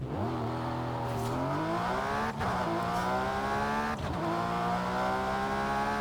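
A Porsche Cayman GT4 RS engine in Forza Horizon 5, intake right behind the driver's head, screams close up, pitch climbing through the revs with two brief dips at gear shifts, steady and loud throughout.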